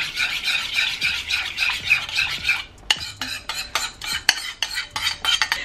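A spoon stirs sauce into sour cream for beef stroganoff pasta, with steady wet scraping and swirling at first, then clinks and taps against the bowl as the mixing continues close up.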